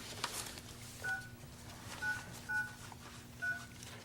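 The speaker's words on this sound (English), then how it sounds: "enter your 7-digit access code followed by the pound sign" DTMF keypad tones punch in an access code on a conference phone line, four or five short, clean beeps spaced about half a second to a second apart, faint over a low steady line hum.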